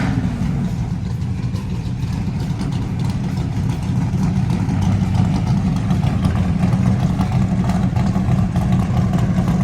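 A Mopar muscle car engine idles with a loud, lumpy rumble, steady and close, throbbing unevenly throughout.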